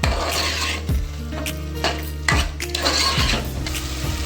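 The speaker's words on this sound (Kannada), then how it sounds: "ಒಂದು ಅರ್ಧ ಬೌಲು ಹೆಚ್ಚಿದ ಆಲೂಗಡ್ಡೆ ಒಂದು ಅರ್ಧ ಬೌಲು ಹೆಚ್ಚಿದ ಬೀನ್ಸ್ ಹೆಚ್ಚಿದ ಬಟಾಣಿ ಇದೆಲ್ಲದನ್ನು ಚೆನ್ನಾಗಿ ಮಿಕ್ಸ್ ಮಾಡ್ಕೋಬೇಕು" A spoon stirs chopped potatoes, beans and peas together in a metal pot for a palak veg pulao, close scraping strokes and clanks repeating every second or so over a soft sizzle.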